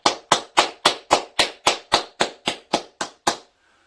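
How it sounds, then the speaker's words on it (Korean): At a citizens' college lecture in Changwon, the audience claps in unison for the dean: about a dozen sharp, evenly spaced claps in a steady rhythm, then sudden silence. "박수 한번 크게 쳐주시기 바랍니다"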